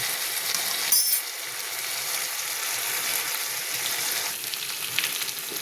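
Spice masala with green chili, black pepper, chili powder and turmeric frying in oil for a paneer curry, giving a steady close sizzle across the whole stretch with a brief metallic clink near the start.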